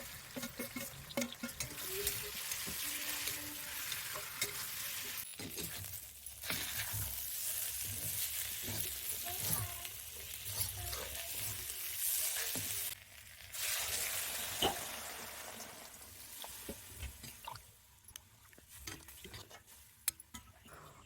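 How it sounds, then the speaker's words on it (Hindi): Jackfruit frying in oil with cumin in a kadhai, a continuous close sizzle with scraping stirs and occasional clinks of a utensil against the pan, fading toward the end. "तेल में थोड़ा सा जीरा डाल दिया है और उसके बाद में ये कटहल डालकर छौंक देंगे"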